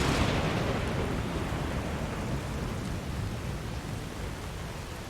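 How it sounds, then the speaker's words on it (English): Thunder rolling in Skyrim, a steady broad rumble with a hissing rain-like wash that stays loud and slowly fades over several seconds, with no voices. "A nice clap of thunder."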